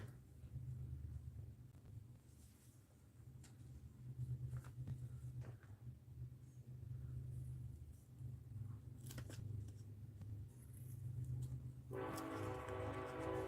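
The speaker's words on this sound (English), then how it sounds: "There comes another train." A train passes nearby with a steady low rumble throughout, and a drawn-out horn-like tone sounds near the end.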